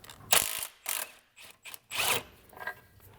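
A hand ratchet loosening an 18mm rear subframe locating bolt on a BMW, a run of quick clicking bursts with short pauses, close and without talk.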